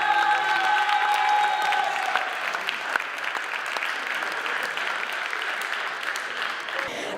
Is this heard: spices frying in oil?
no